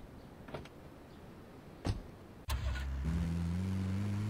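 A car engine in Grand Theft Auto III: a few faint clicks and a thump, then the engine catches and settles into a steady low idle hum, fairly quiet and with no talking.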